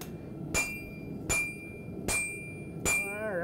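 Four heavy, evenly spaced hammer blows ring out on hot metal being flattened at a forge, each strike a sharp metallic clang over a steady low background rumble.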